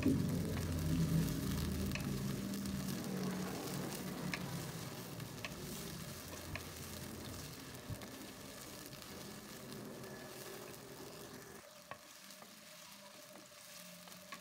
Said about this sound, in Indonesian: Kita tumis ya sampai wangi ya agar langunya berkurang.